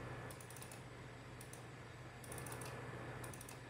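Clicks from a computer mouse come in small quick clusters, faint against a steady hum during work on a GIGABYTE computer upgrade.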